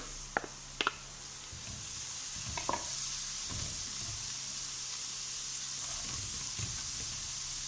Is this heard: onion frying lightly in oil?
yes